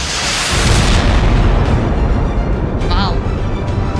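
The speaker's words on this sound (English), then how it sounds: "Can you try using your rocket launcher at them?" Explosion from a rocket launcher in a video game: a loud, dense rumbling boom that sustains for several seconds before slowly tailing off, with a brief electronic warble near the end.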